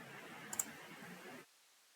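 A computer mouse clicks while lines are selected in AutoCAD, giving a couple of faint, close clicks over low room hiss that cuts off to near silence.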